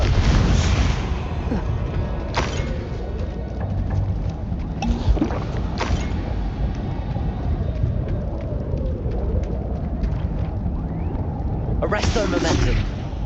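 An explosive fire spell cast during Hogwarts Legacy combat, with sharp blasts and rumbling impacts over a continuous game background while a character's voice calls out spell names.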